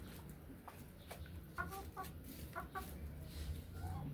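Backyard chickens cluck softly in short, scattered bursts at a moderate distance over a busy outdoor background, with no talking.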